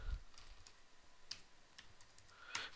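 Computer keyboard typing text into a simple HTML form: sparse, quiet keystroke clicks spread irregularly over a soft background, with a slightly louder cluster of taps at the end and no talking.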